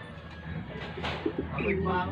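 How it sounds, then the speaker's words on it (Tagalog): Domestic pet pigeons coo softly nearby in a few low, rolling calls beneath people talking. "Mga alaga ng apo ko yung kalapati."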